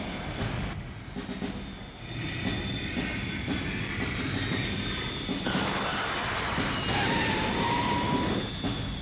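In a Beyblade: Metal Masters cartoon episode, an aircraft comes in to land with a continuous low engine rumble and rushing noise, steady throughout, with faint scattered clicks on top.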